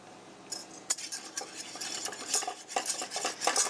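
A utensil stirs flour in a pan over a medium-high flame to make a roux, a run of quiet scraping and clinking strokes in an uneven rhythm, close by with no talking.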